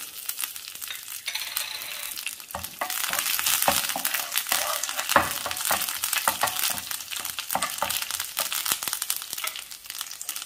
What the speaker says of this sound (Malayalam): കടുക് പൊട്ടി, ഇതിലേക്ക് കറിവേപ്പിലയും പച്ചമുളകും ചേർക്കാം.